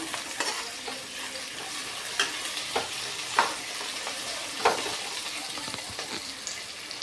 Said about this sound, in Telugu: నెక్స్ట్ బంగాళదుంప ముక్కలు ఒక నిమిషం కలుపుదాం